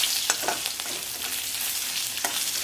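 Two dry red chillies fry in hot oil for a moong pakodi curry, giving a steady close sizzle with faint crackles and no talking.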